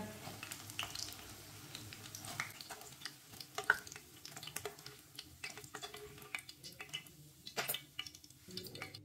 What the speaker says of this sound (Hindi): छन्नी में डाल लेंगे टिक्कियों को, जो एक्स्ट्रा ऑयल है वो निकल जाएगा